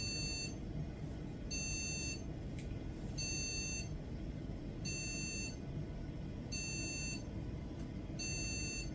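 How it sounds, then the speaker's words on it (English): A Socket 7 Pentium MMX computer sounds a high electronic POST beep in short regular pulses repeating about once a second, clear over a steady low hum of fans and power supply. "a post beep."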